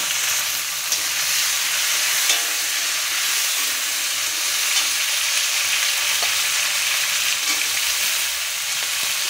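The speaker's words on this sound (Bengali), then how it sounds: "পেঁয়াজটা ভাজা ভাজা করে নেব।" Chopped onions fry in a kadai with cumin seeds, garam masala and sugar while a meat curry is prepared. A steady, close, even sizzle with a faint hiss runs throughout, with no speech.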